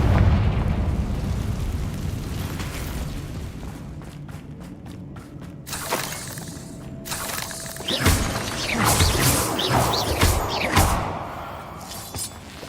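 The Confringo blasting curse in Hogwarts Legacy sets off a chain of loud booming explosions, shattering debris and crackling bursts that rumble on through several seconds of heavy, chaotic impacts.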